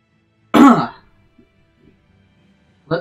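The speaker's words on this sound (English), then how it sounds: "Let me clear my throat." A man clears his throat once in a loud, harsh burst close to the mic, followed by near silence and the start of another short rasp at the end.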